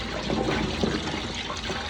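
Tap water runs steadily and splashes while food is washed for aloo pulao in a home kitchen, a continuous rushing stream close by with no talk.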